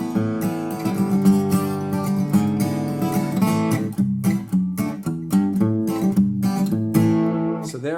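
Acoustic guitar plays a short chord progression in a flatpicking fiddle-tune context: A, then C over a G bass, moving through clear voice-leading steps, each chord strummed or picked and left to ring, close and clean with no talking.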